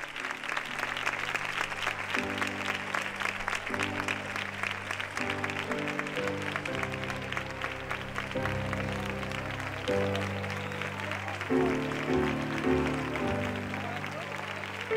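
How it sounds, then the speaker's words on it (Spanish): Audience applause at a Spanish romería gathering, clapping steady through the whole stretch with music tones sounding beneath it. "Un fuerte aplauso para ella."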